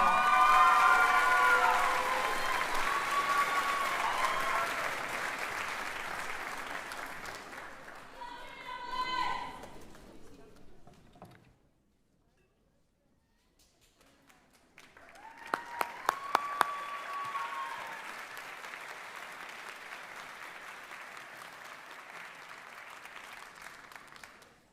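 Graduating class at a college commencement ceremony draws sustained crowd applause with some cheers, fading to near silence midway before a second burst of clapping swells up and carries on to the end.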